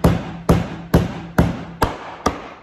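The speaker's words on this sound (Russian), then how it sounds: "утка мороженая, поэтому использую вот такой молоток" A kitchen hammer chops through a frozen duck fillet with six sharp, evenly spaced blows, loud and close, each hit ringing briefly before the next.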